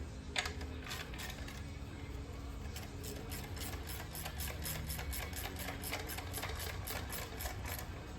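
Ratchet with a half-inch socket removing bolts on a 1987 Harley FXR motorcycle: rapid, continuous clicking of the ratchet mechanism, close and steady throughout with brief pauses.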